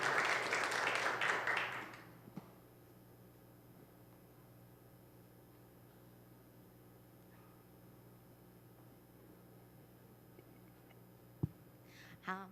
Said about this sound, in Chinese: 我们一起拍手来欢迎曾美娟曾老师的分享。